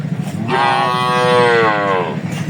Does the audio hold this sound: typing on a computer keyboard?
no